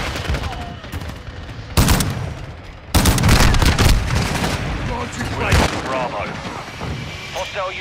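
Intense gunfire in Call of Duty: Modern Warfare II, with sustained loud bursts and heavy booming shots layered densely, surging sharply twice and staying loud throughout, with game voices calling out beneath the barrage.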